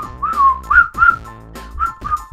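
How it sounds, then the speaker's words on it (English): A person whistles a short, cheerful tune up close: five bright notes in quick phrases with brief gaps, clear and alone with no talking. "you whistle while you're going to the grocery store"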